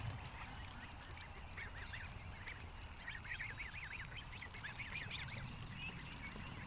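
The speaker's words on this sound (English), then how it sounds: "Oh, my goose is here." A goose honks in a quick series of nasal calls, fairly close but quiet, over a steady low background hum with no talking.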